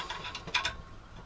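A nut is cinched down with an Allen key on a portable bandsaw table with aluminium parts, giving a few quick, close metallic ratcheting clicks over about a second.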